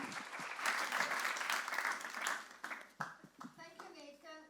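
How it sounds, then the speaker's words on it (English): Audience applause at a panel celebration, dense clapping that thins out and fades, after which a voice speaks over the last scattered claps. "join me now with an advanced round of applause and thanks to all the participants for tonight"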